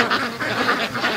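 Several ducks quack together in a barn, a close, loud and continuous chorus of overlapping nasal calls with no pause.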